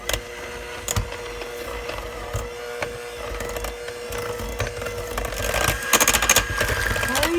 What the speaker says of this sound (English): Let's mix the sugars in.